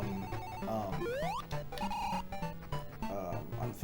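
Carnival-style level music from the Sonic the Hedgehog Master System game, with bright chiptune melody lines, rising swoops and a steady bouncy beat playing loudly throughout.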